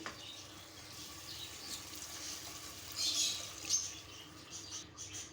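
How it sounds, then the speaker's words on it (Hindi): Water poured from a glass into a pot of chana dal and meat, a faint, steady splashing hiss lasting several seconds with slight swells near the end. "अब इसमें मैं पानी डालूंगी इसको गलाने के लिए।"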